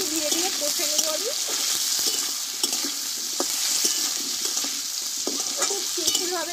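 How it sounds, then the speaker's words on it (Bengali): Potatoes with a little turmeric stirred slowly in oil in a pan: a steady frying hiss with repeated spatula scrapes and stirring knocks throughout, close and continuous. "অল্প একটু হলুদ দেব, দিয়ে অল্প আছে আলুগুলো একটু ধীরে ধীরে কষে নেব আমি।"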